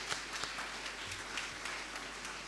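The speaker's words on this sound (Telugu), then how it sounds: "మన అమ్మగారుల కోసం ఒకసారి చప్పట్లు కొట్టడం చూద్దాం" Applause in a church after Holy Mass for the women who decorated the altar, a faint, steady patter of scattered clapping from a congregation, heard at a distance throughout.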